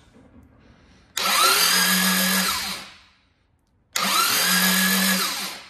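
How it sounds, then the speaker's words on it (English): A high-torque starter on a Classic Mini engine cranks in two short bursts, each a loud whirring spin that holds for a moment and then winds down, close up with a pause of near silence between them. "it is running a high torque starter and they are horrendously noisy."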